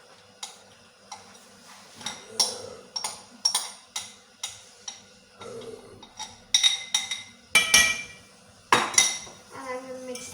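A utensil stirring custard in a pan, clinking against the metal in a series of sharp taps and scrapes, irregular and close, growing louder toward the end.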